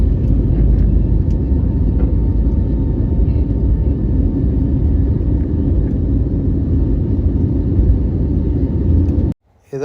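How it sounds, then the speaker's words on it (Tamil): Airplanes at Bangkok Suvarnabhumi Airport produce a loud, continuous low jet rumble that holds steady for nearly ten seconds before cutting off abruptly at the end. "இந்த ஏர்போர்ட்டில் ஒரு நிமிஷத்துக்கு ஒருக்கா 2 ஃப்ளைட்டு பறந்துக்கிட்டு இருக்கும், 2 ஃப்ளைட்டு இறங்கிட்டு இருக்கும்."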